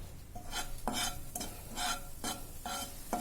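Turmeric and Kashmiri chili are stirred into warm oil in a pan for malai kofta gravy: a steady rhythm of spoon strokes scraping the pan about every half second, with a light sizzle underneath, close and clear.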